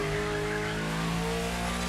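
A luxury hypercar with four-figure horsepower revs its engine in the racing video game The Crew Motorfest, a steady, loud harmonic engine drone filling the whole two seconds with no voices.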